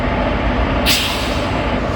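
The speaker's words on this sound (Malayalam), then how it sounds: "കോയമ്പത്തൂർ മംഗളൂരു സെൻട്രൽ എക്സ്പ്രസ് ആണ് അപ്പുറത്തേ വരുന്നത്. അതിനൊരു WP4 ലോക്കോ." The Coimbatore–Mangaluru Central Express, hauled by a WP4 locomotive, rumbles past at a station as a steady broadband roar with a brief hiss partway through, heard alone.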